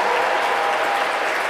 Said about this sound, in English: Our co-valedictorians deserve a much better round of applause than that.